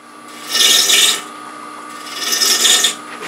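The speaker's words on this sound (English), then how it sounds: "Just doing a slight scraping cut here to make this transition." A gouge makes a slight scraping cut on a rough-turned Bradford pear green-wood bowl spinning on a lathe, giving two rasping, hissing passes against a steady machine hum.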